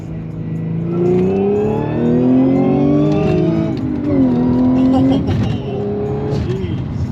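An Audi S5 with a supercharged engine revs up and eases off in repeated surges, its rising engine note carrying a tonal supercharger whine, loud and close.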